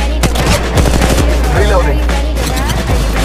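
Automatic weapon fire in an Apex Legends battle royale match, sustained bursts of shots rattling continuously over low background hum, with brief voice chatter mixed in.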